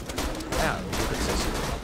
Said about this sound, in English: Well, it is a machine gun.